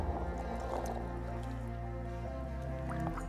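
Horse chestnut conkers being stirred in a container of water, with soft sloshing and a few small drips over a steady low hum.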